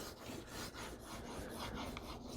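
A steel blade is rubbed back and forth across a wet sharpening stone, working up a slurry on both flat bevel surfaces, making a steady close gritty rasp with faint rhythmic strokes and no voices.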